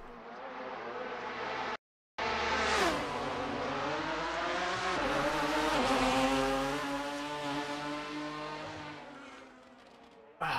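A loud GT1 race car engine in the Assetto Corsa racing game at Road America roars and revs continuously, pitch rising and falling through gear shifts, broken by one brief dropout near the start.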